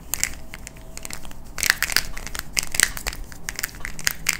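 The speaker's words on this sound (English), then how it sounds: "let me just give you a quick sound test of what this Square One sounds like close up to the mic" A Square-1 puzzle cube is turned right next to the mic, making a run of sharp plastic clicks and crunchy ratcheting bursts in quick, uneven succession with no talking.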